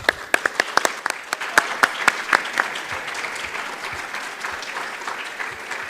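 Audience applause for the Algerian national delegations at a closing session, starting with sharp, loud claps that settle into a steady, dense patter of clapping from a sizeable crowd.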